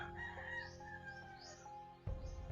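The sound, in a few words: roosters crowing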